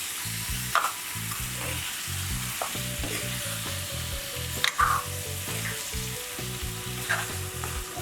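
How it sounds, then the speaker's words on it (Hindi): Fish pieces for macher jhol frying in a pan, a loud, continuous sizzle with rhythmic stirring scrapes and occasional sharper pops, no voices. "इसको हम थोड़ी देर भून लेंगे ऐसे"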